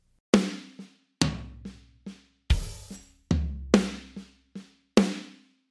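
A drum fill played on a kit, with sharp snare accents struck one after another in a clear pattern, separated by softer ghost notes and short decays, close and dry with no talking.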